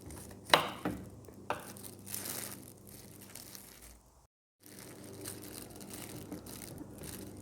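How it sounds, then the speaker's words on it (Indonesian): A knife cuts tomato into small cubes for an avocado chicken salad, giving a few sharp chops and crunchy cuts on a board, with a brief silent gap and softer handling noises after. "Nah, tomatnya saya akan potong kotak kecil juga."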